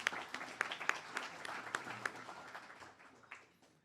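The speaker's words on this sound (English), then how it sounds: "So please give her a round of applause." Scattered applause at an internal medicine graduation certificate presentation, a sparse, fairly quiet patter of individual claps that thins out and fades by the end.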